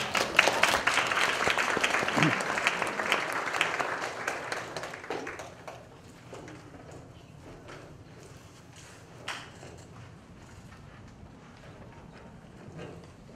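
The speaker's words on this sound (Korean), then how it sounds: "교수님 앞으로 나오실 때 뜨거운 박수로 환영해 주십니다." An audience claps loudly to welcome a professor to the podium, the applause thinning over several seconds into scattered claps and faint room shuffling.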